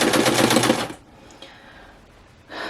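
A vintage Singer sewing machine stitches in a quick, rhythmic clatter for about a second, falls quiet, then starts stitching again near the end.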